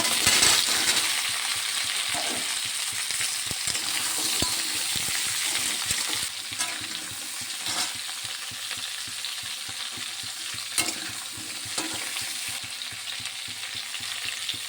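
Pumpkin frying in a pan with onion browned in oil and panch phoron, a steady broadband sizzle throughout with occasional stirring scrapes and clinks, close and fairly loud, no talking.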